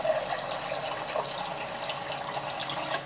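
Water poured steadily for cooking brown rice, a continuous splashing stream that stays close and even throughout, with no voices.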